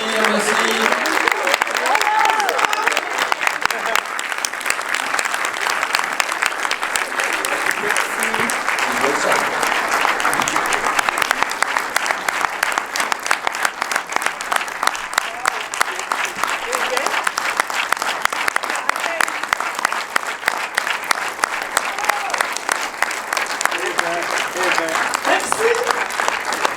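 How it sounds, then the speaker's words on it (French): An audience at a French film premiere claps in a sustained, dense round of applause lasting the whole stretch, with voices talking over it throughout. "on peut continuer à les applaudir"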